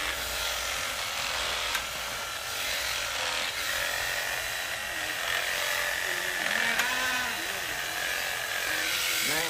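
Electric shears clip wool from a lamb's leg and forearm area during a 4-H shearing session, a steady buzzing, rasping drone close by that runs without a break.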